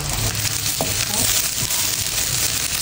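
Ginger sautéing in a hot wok for a seafood dish, giving a dense, steady sizzle with a few faint clinks of a utensil stirring, close and continuous throughout.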